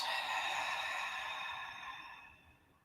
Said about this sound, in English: So you're watching as you breathe in and then exhaling out.